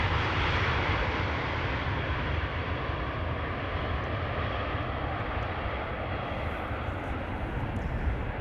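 British Airways jet arrived from London Heathrow at Amsterdam Schiphol, a loud, broad, steady engine roar that stays close and continuous throughout, with no voices.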